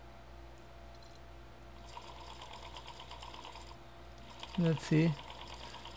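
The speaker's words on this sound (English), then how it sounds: "let's see how this controls the motor" A DC motor driven by a 20A 10-60V PWM speed controller hums faintly and steadily at low speed, with a short spoken phrase near the end.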